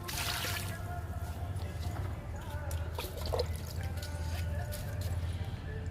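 Liquid plant feed pours onto a potted rose plant, a soft steady trickle and dribble of liquid running under faint background noise, with no talk.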